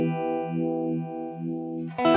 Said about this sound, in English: a typical kind of classic vibe sound